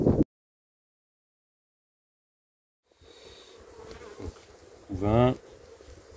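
Honey bees buzz around a beehive frame. After a silent gap, a soft swarm hum rises and one nearer bee passes with a louder, pitch-shifting drone.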